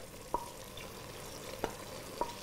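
Meatballs go into a frying pan, a faint low sizzle marked by three distinct clinks or knocks, each one landing separately against the pan, with no talking.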